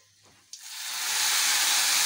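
Hot oil tadka for besan kadhi with pakora sizzles up sharply and keeps hissing loudly and steadily, a brief clatter just before the sizzle starts.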